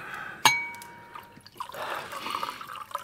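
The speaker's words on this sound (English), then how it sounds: "Top up the fellow's glass." Liquid poured into a glass by a fireside, a brief clink at the start followed by a steady splashing pour, fairly close and moderately loud, with no talk.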